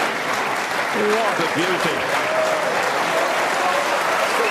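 Snooker crowd at the 2019 World Championship applauding a shot, sustained clapping from a large audience throughout, with a commentator speaking over it.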